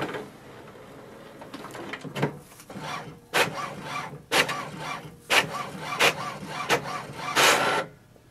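Mechanical whirring and clacking in repeated bursts as an HP OfficeJet Pro 9022 inkjet printer feeds and prints a page, fairly close with short pauses between passes.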